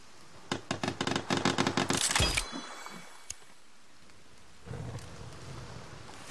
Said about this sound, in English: Is it seriously raining again?